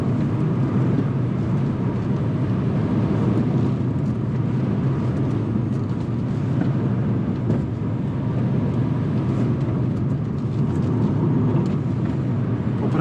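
An electric Mini John Cooper Works hot hatch accelerates in sport mode, giving a dense, steady rush of road and wind noise with a low hum, continuous and loud from inside the cabin.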